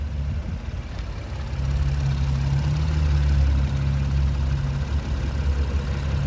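A 2019 Honda Odyssey Elite minivan engine idles steadily up close, a smooth low hum with a constant rumble that swells slightly partway through and holds even.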